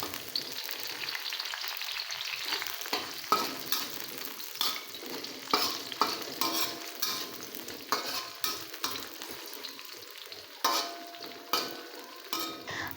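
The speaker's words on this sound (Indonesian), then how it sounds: "Kemudian goreng juga cabainya sampai layu." Shallots, garlic, bird's-eye chilies and curly red chilies fry in a pan in a steady, close sizzle, broken by repeated stirring scrapes and taps of a utensil, with no talking.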